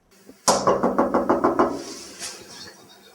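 A fist knocks on the locked door of a garage owner's home in Kolomyia, a quick, loud, close run of about eight even raps, followed by faint background noise.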